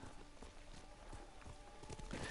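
Horse hooves clip-clop steadily in the Ghost of Tsushima video game, a soft, even walking rhythm heard against low ambient background noise, with no voices.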